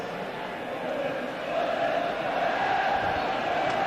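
A football crowd at a Sunderland versus Barnsley match in 1987 chants steadily in the distance, a broad massed roar that swells slightly midway and holds for several seconds.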